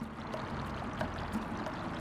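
Water pours and streams steadily after a valve is turned in Sly 2: Band of Thieves, a soft continuous rushing flow with a few faint splashes, moderately quiet throughout.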